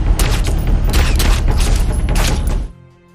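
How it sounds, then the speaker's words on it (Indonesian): Rapid gunfire in an action film: a dense, loud volley of overlapping shots and booms lasting over two seconds, then cutting off abruptly to near silence. "Ketika tim medis mendengarkan suara tembakan"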